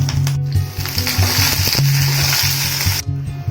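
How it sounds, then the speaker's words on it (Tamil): Steady, loud sizzling of chopped ginger and two broken green chilies frying in hot oil for coriander rice, with occasional stirring scrapes and a low background hum. "இஞ்சி பச்சை மிளகாய் நல்லா வதங்கிடுச்சு"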